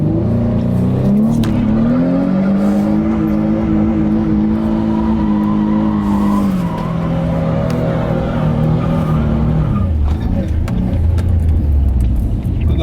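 Nissan 350Z with no ABS doing a burnout on wet ground, its engine loud and close, holding high revs with rising and falling pitch before dropping near the end, over steady tire noise.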